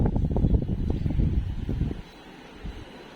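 Gusty wind roars through trees outdoors, a dense low rumble and rustle with heavy microphone buffeting that is loud for two seconds and then eases to a softer blow.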